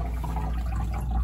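Water runs steadily from a portable hot and cold water sink at full pressure, a continuous close rushing flow with low rumble and no break over the short span.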